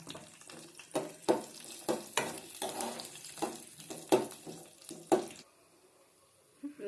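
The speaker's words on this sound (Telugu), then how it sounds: "వేగుతున్నాయి ఫ్రెండ్స్ చూడండి చక్కగా వేగినాయి" Homemade sweets fry in hot oil with a lively crackling sizzle and repeated clattering stir strokes, close up, until the sizzling drops away near the end.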